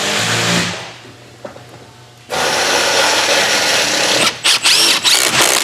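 A power drill drives screws into the seat cushion of a Stressless recliner, a loud whirring burst that stops, a quiet stretch, then a long steady drone broken by several short stop-start pulses near the end.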